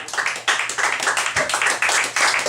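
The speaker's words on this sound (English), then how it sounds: "give him a round of applause" An audience claps for a priest, close, loud and rhythmic clapping that comes in a repeating pattern of beats, with no talk over it.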